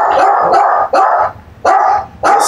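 A dog barks loudly and close by in four or five heavy, spaced barks with short pauses between, alone with no talking.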